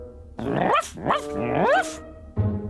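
A synthetic, electronic voice imitates a dog's barking with a few rising, warbling yaps in quick succession, close and loud.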